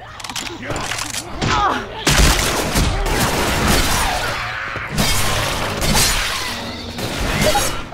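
Gunfire in the zombie shooter Left 4 Dead 2 during an advanced Dark Carnival coaster level, loud rapid bursts of shots and impacts packed densely throughout, with voices talking over the shooting.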